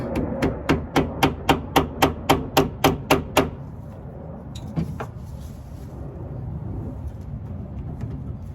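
About a dozen evenly spaced hammer blows ring out in quick succession while installing a steering shaft on a 1987 Monte Carlo SS, then stop, leaving faint clatter and background noise.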